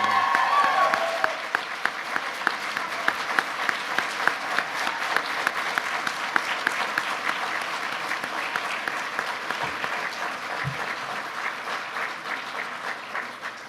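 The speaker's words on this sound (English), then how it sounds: "we should all give him an incredible roaring round of applause for that." A reception audience at a college graduate and donor event breaks into sustained, loud applause, dense clapping filling the room from start to finish with slight tapering toward the end.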